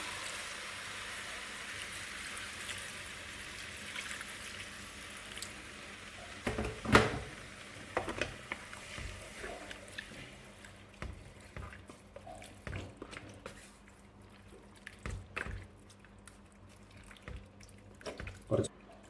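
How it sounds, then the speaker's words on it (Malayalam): Water poured into a pot of kappa biriyani made with tapioca and beef: a soft, steady rush of running water that gives way to scattered splashes and drips, fairly quiet overall. "ഇതിലേക്ക് വെള്ളം ഒഴിച്ച് കൊടുക്കണം"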